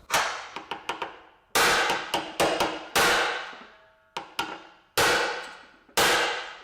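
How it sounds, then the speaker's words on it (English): A hammer strikes a manual impact driver on a broken bolt during a Jaguar S-Type restoration, first a quick run of lighter taps, then heavy ringing metallic blows spaced about a second apart, close and loud. "And now I'm gonna use my manual impact driver"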